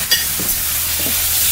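Apples in an apple juice sauce poured into a hot pan, giving a steady, fairly loud hissing sizzle with a few faint splashy bursts near the start and no voices.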